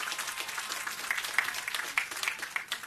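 Audience applause at a graduate commencement ceremony, a steady crowd clapping with individual claps standing out, continuous across the whole moment.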